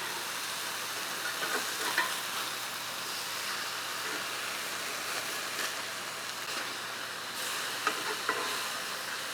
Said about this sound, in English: I'm going to flip my burgers.